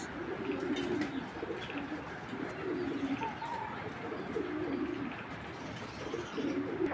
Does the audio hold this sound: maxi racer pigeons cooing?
yes